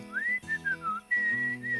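Short, clear human whistle: a rising note, a few quick wavering tones, then a sustained steady pitch, heard close and alone over a soft background tone.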